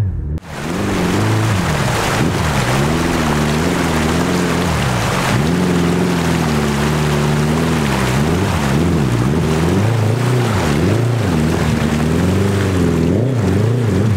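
A Royal Enfield Interceptor 650 motorcycle pushes through water about two feet deep, its loud engine note rising and falling over a constant splashing, churning roar, close and unbroken throughout.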